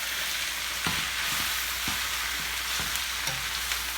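Kale and grape tomatoes sauté in a pan over medium heat, giving a steady close sizzle with occasional soft stirring knocks and scrapes, and no voices.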